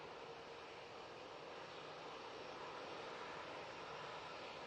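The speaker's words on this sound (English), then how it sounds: "this 737 MAX 8 off to Boa Vista" A Boeing 737 MAX 8 jet departs Manchester Airport, its engines giving a steady broadband roar that is faint and distant and holds even throughout with no voices.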